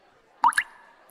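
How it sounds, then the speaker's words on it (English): A single water droplet falls with two quick, close plops in a quiet room, clear and alone against near silence, set in an ASMR role-play. "A water droplet?"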